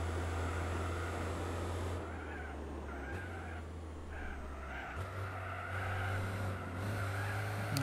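A race car driven in the video game Gran Turismo 4 drones steadily with a low engine tone that shifts pitch several times like gear changes, loud and continuous with no talk.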